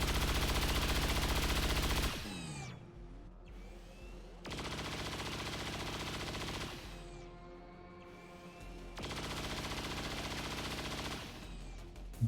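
Sustained automatic gunfire from the XCOM 2 Long War of the Chosen game, loud bursts of two seconds or more, separated by quieter gaps with clicks and interface tones, with no one talking.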